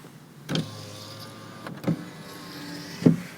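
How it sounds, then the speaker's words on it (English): Electric windows on a 2007 Honda Civic 1.8 ES i-Shift hatchback, heard from inside the car: a steady motor whine with three distinct clunks as the glass stops, close and with no talking. "4 electric windows, all working exactly as they should"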